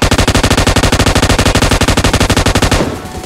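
Rapid, loud sustained bursts of M249 machine gun fire in a video game cable-car battle on an icy map, a steady rattle of dozens of shots that stops abruptly near the end.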